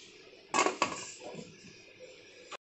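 A metal lid is set onto a pot of steaming ragi puttu, giving two close clanks in quick succession, a faint rattle after, and a small final tap.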